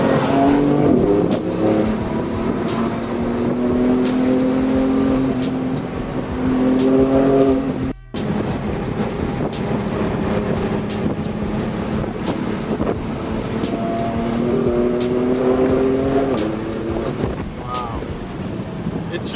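A tuned Stage 2 BMW F80 M3 with its S55 engine pulls hard toward redline, a loud in-car roar rising in pitch through the gears, with a brief gap mid-run and heavy wind noise throughout.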